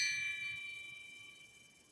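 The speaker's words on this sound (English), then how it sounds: "But I just thought this was the coolest bell." Small brass bell with enamel decoration, rung softly once, giving a bright ding that rings on and slowly fades over about two seconds, with no talking.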